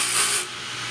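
A freshly cut key is rubbed along the brush of a key-cutting machine to smooth its edges, a bright hissing rasp lasting about half a second before fading into a quieter machine hum.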